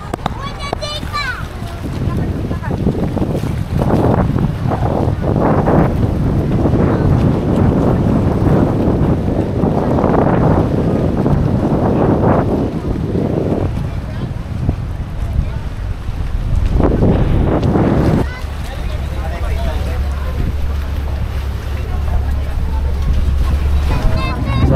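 A tour boat crosses the sea near Port Barton on the way from Puerto Princesa to El Nido, with strong wind buffeting the microphone over a steady engine and water rush, loud and continuous throughout, with occasional voices mixed in.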